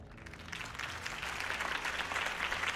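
Crowd applause from the Batman: The Telltale Series video game, a dense steady clapping that swells slightly after the first half second and holds strong throughout.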